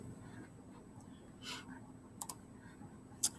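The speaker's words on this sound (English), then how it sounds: "Click on it." Sharp, quiet clicks of a computer mouse, a pair close together and then one louder single click, over a faint steady room hum with no talking.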